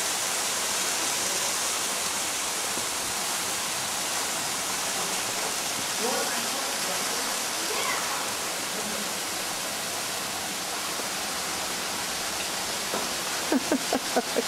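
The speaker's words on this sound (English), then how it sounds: "So we're going under the waterfall." Steady, roaring rush of falling water fills everything, loud and continuous, with faint voices barely surfacing beneath it.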